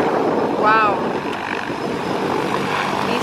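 A light aircraft engine at a skydiving jump drones steadily as a loud, close, continuous roar, with a person talking briefly over it.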